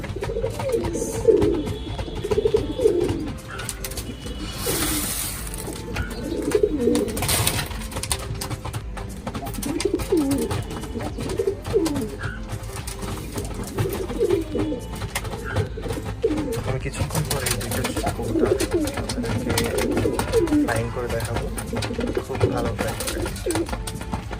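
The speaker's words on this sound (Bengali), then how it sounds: "এখানে দেখতেছেন সবগুলো কবুতর খাওয়াতে ব্যস্ত" Pigeons coo steadily in a loft while feeding, overlapping throaty calls from several birds close by with occasional wing flutters and rustling, continuous and moderately loud throughout.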